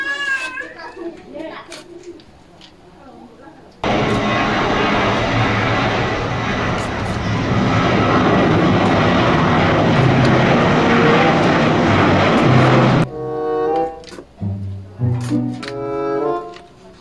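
A toy airplane's engine sound effect: a loud, steady roaring drone that lasts about nine seconds and stands alone between stretches of excited speech.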